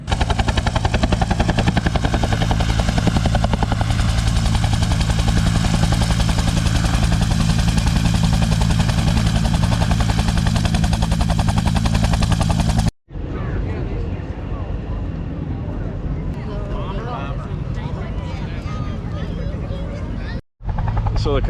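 Military aircraft at an air show, including A-10s, a P-51, a Corsair and the Blue Angels, roar loudly for a long stretch, then fade to a quieter, distant engine drone with crowd noise and talk.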